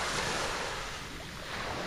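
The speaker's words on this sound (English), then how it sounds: "lovely calm sea" A calm evening sea washes onto Chesil Beach with a steady, soft hiss of surf and light wind noise across the microphone, and no voices.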